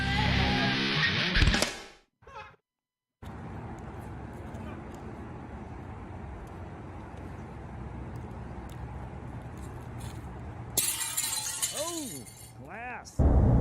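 Glass shattering, a burst of breaking and tinkling shards heard alone between stretches of louder talk and background noise, followed by a steady hiss.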